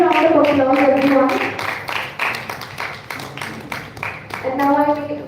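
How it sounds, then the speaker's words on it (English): A seated audience gives a round of applause during a felicitation ceremony at a management school event, the clapping rising in the middle between stretches of a speaker's voice at the start and end. "A usual round of applause, everyone."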